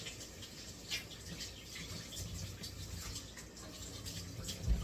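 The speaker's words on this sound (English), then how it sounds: "Wash my hands real quick." Running tap water splashes steadily over hands being washed in a home kitchen, a faint continuous hiss with small splashes throughout.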